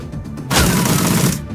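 A burst of automatic gunfire from the video game Shadowrun Dragonfall, one loud sustained volley lasting about a second after a brief quieter lead-in, with no talking over it.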